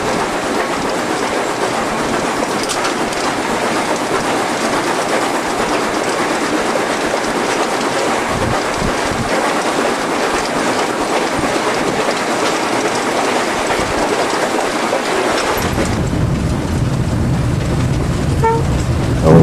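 Loud, continuous rumble of a China Railways SY 2-8-2 steam locomotive pulling old mainline coaches at a coal mine, with rhythmic clattering of wheels on track; the sound shifts in tone near the end as it coasts.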